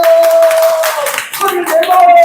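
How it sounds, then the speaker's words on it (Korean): An audience claps along at a laughter-therapy workshop at a church seniors' happiness school, quick, dense hand claps mixed with a sustained tone and a voice speaking over them. "자, 박수를 치고."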